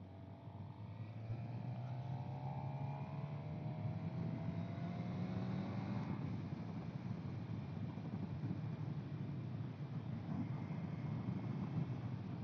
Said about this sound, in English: it's really a load of wind noise on this bike